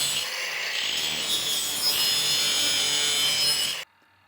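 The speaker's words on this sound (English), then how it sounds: "he borrowed an angle grinder from our workshop" An angle grinder scrapes material from the surface of a rhenium sample, making a harsh, close, rasping grind that holds steady for a few seconds and then cuts off abruptly into silence.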